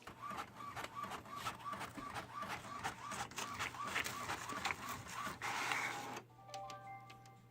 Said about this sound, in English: my 2 pieces of paper are ready to go through my printer